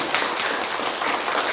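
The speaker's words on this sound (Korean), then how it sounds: "우리 하나님 앞에 영광의 박수 한번 드리죠" Church congregation at a Sunday worship service gives a short round of applause, a dense, even patter of many hands clapping for under two seconds without any voices.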